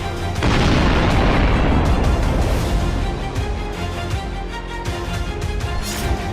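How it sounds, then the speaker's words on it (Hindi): A single loud explosion booms, then a long deep roar and rumble slowly fade, with no voices. "एक धमाका, जमीन कांप उठी, समंदर थर्राया"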